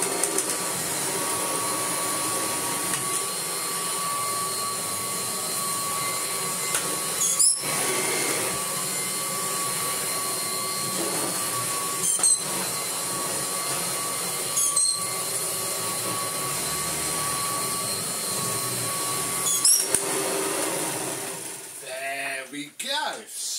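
A Kirby Heritage Turbo vacuum cleaner runs steadily while tidying up mess from its box, a constant motor whine with a few brief bumps and clatters along the way, ending in some handling noise.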